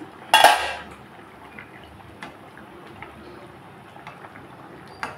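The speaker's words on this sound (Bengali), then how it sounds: "ঢাকনা খুললাম।" A metal lid lifts off a cooking pot of fish curry with one sharp clattering clank near the start, then a low simmering background with a few faint taps and a small knock at the end.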